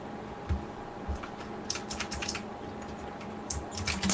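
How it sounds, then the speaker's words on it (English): Short bursts of crisp clicking from a loud computer keyboard, typed up close in quick clusters separated by brief pauses over a low steady hum. "That's my keyboard."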